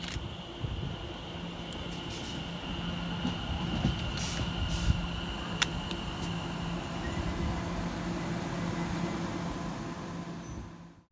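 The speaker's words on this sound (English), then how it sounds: "here comes 710-115 and 710-114, working the 1057 London Overground service from London Liverpool Street through to Cheshunt" A London Overground Class 710 pair, units 710-115 and 710-114, rolls steadily into the station on a Liverpool Street to Cheshunt service, a continuous rumble of wheels with faint metallic squeals and clatter, close and sustained before cutting off.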